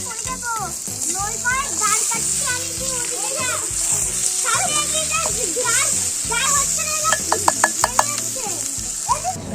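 Fish sizzles and fries in a banana leaf in a children's toy cooking set, a steady hiss running beneath constant chatter from young girls and a few clinking taps.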